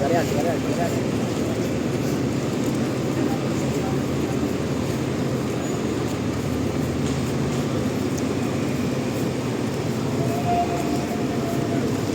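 An MRT 2 metro train passes behind a house, a steady, loud rumbling roar that holds throughout without easing.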